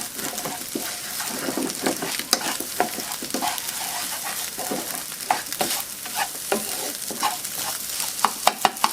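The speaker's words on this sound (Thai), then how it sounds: "ผัดไข่ให้สุกอย่างนี้เลยนะคะ" Egg stir-fried in a pan for a cucumber-and-egg dish crackles with a dense sizzle, punctuated by frequent sharp spatula scrapes and taps against the pan, close and fairly loud.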